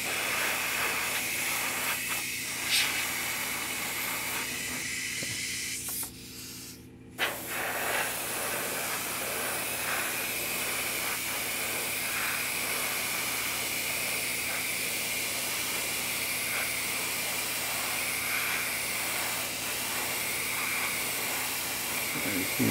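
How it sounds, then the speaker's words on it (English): A small spray gun sprays paint at a workbench with a long steady hiss. The hiss drops out briefly near the middle, then resumes and holds evenly to the end. "so I don't like to spray this too much out on the bench."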